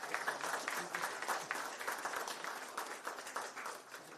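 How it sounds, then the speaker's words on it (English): Audience applause at a business continuity awareness event as certificates are handed to winners on stage, a steady dense round of clapping from a crowd indoors, sustained and even throughout with no voices over it. "A big round of applause to Sir, please."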